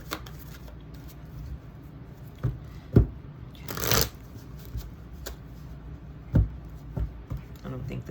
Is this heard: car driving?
no